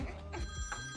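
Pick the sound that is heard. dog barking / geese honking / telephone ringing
telephone ringing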